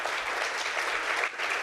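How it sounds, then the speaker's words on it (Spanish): An audience at a book launch for a cancer writing contest applauds loudly and steadily, a dense wash of clapping that holds for the whole stretch with only a brief dip near the end. "pido un fuerte aplauso para ella"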